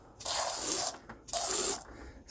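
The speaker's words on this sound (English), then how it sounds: "we're going to go ahead and spray this rubber seal spray" Rubber seal spray hisses from an aerosol can onto an RV seal in two close bursts, each lasting under a second, with a short pause between them.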